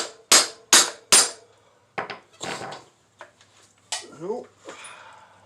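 Hammering on a part of a 1976 AMF Harley-Davidson SS 175 during a rebuild, three loud sharp blows close together followed by lighter taps and scraping clatter, with a voice partly heard under it.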